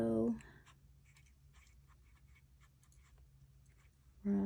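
An ink pen from the Birmingham Pen Co. scratches lightly across paper in short, faint strokes. Speech is heard at the start and end of the clip.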